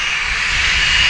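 Aircraft engines roar loudly as planes taxi down a runway, a steady, continuous, close drone with no breaks or voices.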